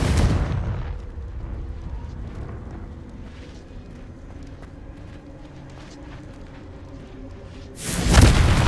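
Confringo blasting spell explosions in the Hogwarts Legacy video game, loud bursts at the start and end framing a rumbling, crackling stretch of combat noise in between, with no talking.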